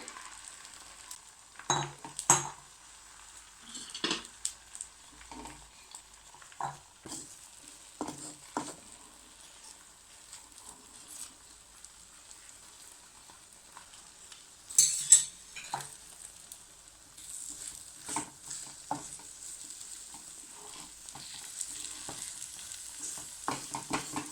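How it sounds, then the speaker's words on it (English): Eggs fry in bubbling butter in a pan with a soft, continuous sizzle broken by scattered crackles and light clinks of a utensil against the pan, close and fairly quiet, with no voices. "In a pan, we can now add some butter and bring it to bubble. Then add eggs to the pan."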